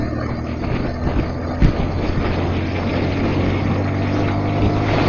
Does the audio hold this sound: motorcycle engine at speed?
yes